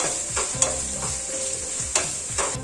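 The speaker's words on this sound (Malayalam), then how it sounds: "ഇനി സവാള നല്ല പോലെ വാടി വരട്ടെ, അതുവരെ നമുക്കിങ്ങനെ ഇളക്കി കൊടുക്കാം." A spoon stirs onions with masala in a hot pan, scraping repeatedly at a steady pace over a constant close sizzle of frying, with no voices.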